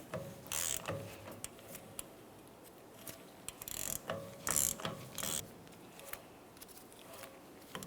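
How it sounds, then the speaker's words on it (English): Ratcheting clicks and metallic mechanical rattles as the hub nut is tightened on a 1994-2002 Ram 2500 while the hub is spun, coming in short irregular bursts separated by quieter gaps, close and moderately loud. "As we're tightening this, you want to make sure that you're spinning the hub so it's not going to bind in any way."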